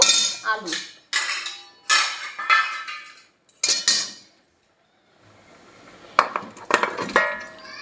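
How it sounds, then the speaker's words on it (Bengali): Potatoes go into a pot of thin chicken curry and are stirred with a metal spoon, giving repeated sharp clinks and scrapes against the pot in short bursts with brief pauses between. "আলুটা দিয়ে দিলাম, দিয়ে এই যে নাড়িয়ে দিলাম"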